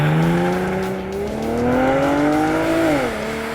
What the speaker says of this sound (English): You're hearing the big V6 with 321 horsepower.